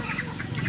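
Hens cluck at a country chicken market in Gollapalem, short repeated nasal clucks close up over a murmuring, busy background.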